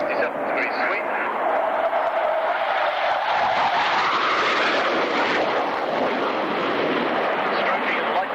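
A swing-wing jet fighter roars past at an airshow on afterburners, a broad rushing jet noise that swells and shifts in pitch as it goes by, heard from a distance, with no talking.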